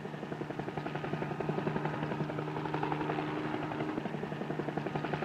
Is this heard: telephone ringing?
no